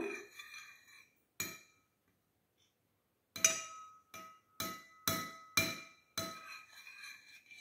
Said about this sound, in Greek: Εδώ ανακατεύουμε